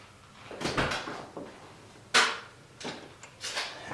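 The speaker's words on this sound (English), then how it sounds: "So I have to open the door." The door of a VW Beetle opens with a series of close clunks and clicks, a latch snap followed by a sharp thump and a few lighter knocks.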